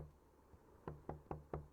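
Knocking on a door in the horror game Night Knock, a faint thud followed by a steady run of four firm, evenly spaced knocks, close and clear over a low hum.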